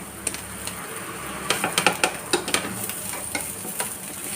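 Egg-coated bread toast fries in oil in a pan. A soft, steady sizzle runs underneath, broken by sharp spatula scrapes and taps as the slices are moved around.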